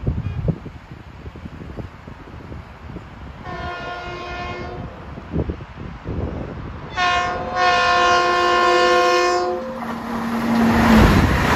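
Long Island Rail Road train number 1966, bound from Penn Station to Ronkonkoma, sounds its horn in two loud blasts at Pinelawn during evening rush hour, with rolling train noise building underneath as it passes close by.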